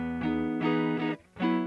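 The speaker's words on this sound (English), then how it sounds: "it turns a clean guitar sound like this" Clean electric guitar in a Stratocaster-style tone plays four short strummed chords with a brief gap before the last, dry and moderately quiet.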